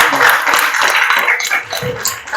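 A school class claps for a group of classmates, giving a loud, dense wash of hands close by that swells and dips over a couple of seconds.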